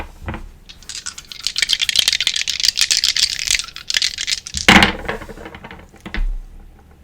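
Dice rolling and clattering on a hard surface for several seconds, a busy run of small rapid clicks and rattles with a sharper tumble near the end, no voices.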